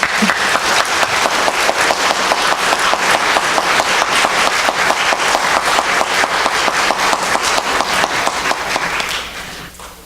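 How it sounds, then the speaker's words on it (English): A synagogue congregation at a teen service applauds its 12th graders with a dense, steady round of clapping that fills about nine seconds at close range, then fades and thins out at the end. "let's give them actually a real round of applause"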